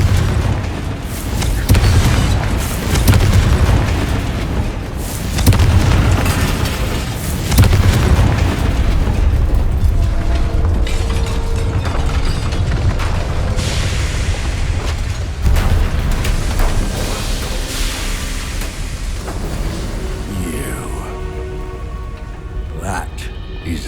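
Confringo spell explosions in Hogwarts Legacy, several heavy booming blasts with low rumbling tails and crackling debris, loud and close, with voices around them.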